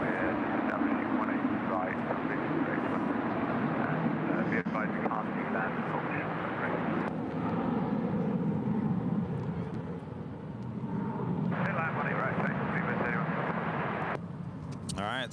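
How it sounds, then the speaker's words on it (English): An Airbus A350-1000 jet airliner passes over an airport, its steady roaring engine noise sustained throughout with a slight dip and swell, while people talk over it. "Airways A350-1000 making her way over."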